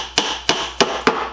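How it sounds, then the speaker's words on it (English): A flat-faced nail hammer drives nails into an old wooden tool box, striking four sharp, evenly spaced blows, each close and loud with a short ringing decay. "Actually, this nail hammer would work better."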